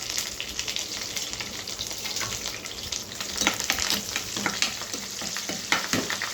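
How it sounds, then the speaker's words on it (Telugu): Mustard seeds, cumin and curry leaves frying in hot oil for a restaurant-style tomato curry, a steady dense sizzle with crackling pops and spatters throughout, close and alone with no talk. "ఇందులో మనము ఆవాలు వేసుకుందామండి ముందుగా. తర్వాత జీలకర్ర, తర్వాత కొంచెం"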